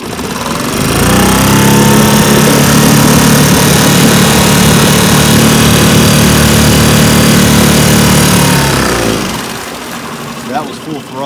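A Pelican Bass Raider 10E boat's electric motor runs at full throttle, a loud steady droning whir close by that holds for about eight seconds and then winds down, leaving a few faint knocks.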